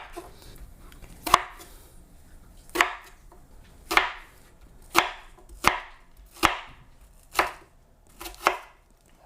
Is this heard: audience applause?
no